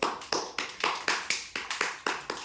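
A few children clap their hands together in a steady, fairly quick rhythm, about ten sharp claps over a couple of seconds, close and moderately loud with no talking.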